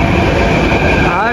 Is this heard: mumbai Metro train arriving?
yes